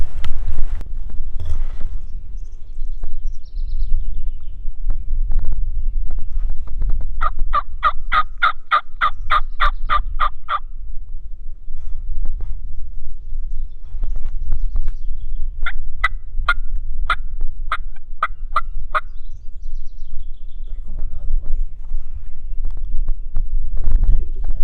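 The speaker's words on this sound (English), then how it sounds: "we're going to head out here and hear a few gobbles" Wild turkeys gobbling in the Missouri countryside, two bursts of rapid rattling gobbles at moderate distance, heard over steady wind noise rumbling the microphone.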